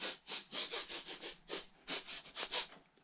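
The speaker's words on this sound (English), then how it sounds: "Have a sniff, see if you can smell it." Storyteller acting out a rabbit smelling makes a quick series of close, sharp sniffs, about a dozen short inhalations in uneven bursts.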